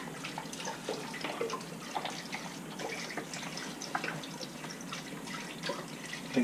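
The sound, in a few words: pouring quart of chicken broth into chili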